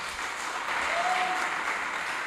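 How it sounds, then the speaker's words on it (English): Sustained clapping from a studio audience at a youth contest show in Ghana fills the whole stretch, steady and fairly loud with no pause. "a round of applause"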